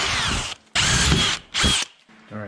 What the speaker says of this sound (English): now I need to drill these two holes out